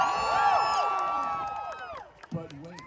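A crowd at a medieval faire cheers for its jousting champions, with a loud burst of mixed whoops and shouts that fades over a couple of seconds, then a few scattered individual yells.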